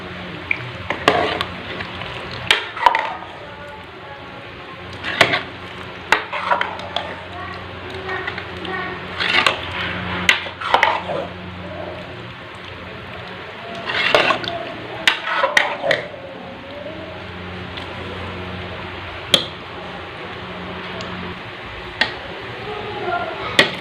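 Chickpeas and their soaking water are stirred into a gravy in a pot for street-style Lahori chikar cholay, with repeated scraping and clinking of a spoon against the pot and some liquid sloshing, fairly close, under ongoing background sounds.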